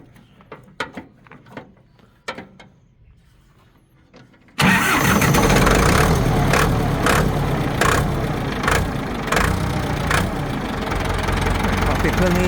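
A Ford 6600 tractor engine cranks and fires, then settles into a loud, steady idle that holds close to the microphone; a few sharp clicks and knocks come before it starts.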